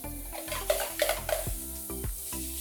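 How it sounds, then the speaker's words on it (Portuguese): Seasoned seafood sautés in a pan with onion and garlic, with a soft sizzle under repeated scraping and clinking of a utensil against the pan at close range. "Eu já tenho o fruto do mar aqui temperado com um pouquinho de pimenta e sal. A gente dá uma refogadinha."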